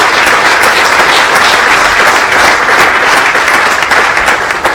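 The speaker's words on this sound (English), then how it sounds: "Let's give them a big round of applause." Audience applause at a redevelopment announcement event in Springfield, a steady, dense wash of clapping from a large crowd that fills the whole stretch at full loudness.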